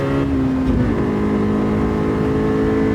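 A Honda Civic SiR engine in Gran Turismo 7 at Tsukuba Circuit revs loudly, drops in pitch with an upshift just before one second, then pulls on steadily, close and continuous with no talking.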